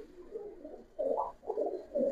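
Giribaz pigeons offered for sale coo in a few soft, throaty bursts, close by, with no talk.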